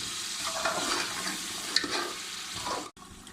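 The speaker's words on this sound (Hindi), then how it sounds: "और इसे भी 1 मिनट के लिए भून लेंगे।" Boiled trotters frying with roasted flour in a pan, a steady broadband sizzle and stirring scrape running continuously at moderate loudness, cutting off abruptly near the end.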